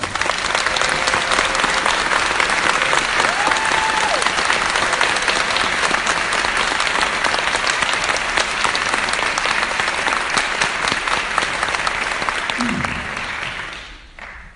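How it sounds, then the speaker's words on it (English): Round of applause welcoming Dr. Abdul El-Sayed before a healthcare talk in St. Joseph, Michigan: sustained, dense clapping from a crowd, fairly loud and even, fading out at the close. "let's give him a round of applause to welcome him"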